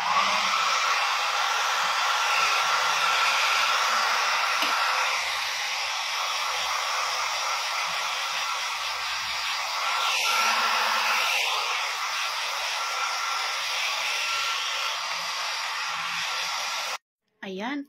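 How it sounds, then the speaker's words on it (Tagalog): A hair dryer blows steadily, drying wet hair in a hotel room in Macau, a loud continuous whooshing roar that runs unbroken throughout before cutting out briefly near the end. "mag-blower muna tayo para kasi basa pa yung buhok natin"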